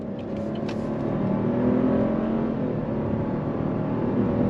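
A 2024 Buick Encore GX with all-wheel drive and a 9-speed automatic accelerating on throttle around a turn, a steady engine drone heard from the cabin that rises slightly in pitch and stays loud throughout.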